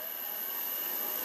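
Wood lathe running with an olive burl mounted, a steady broadband motor whir with a high constant whine, close and continuous with no talk.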